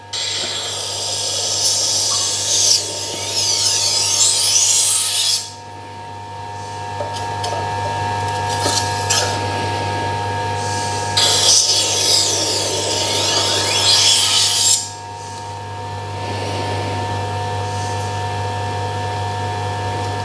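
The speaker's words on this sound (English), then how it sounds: "But a long knife, I'm twisting it into the diamond." A long knife is sharpened on a Tormek T1 diamond wheel, with two long bursts of gritty scraping over the steady hum of the motor. Each pass lasts several seconds, with a quieter stretch of the motor running between them.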